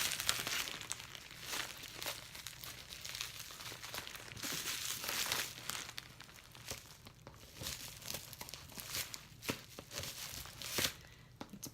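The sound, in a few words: unwrapping bubble wrap packaging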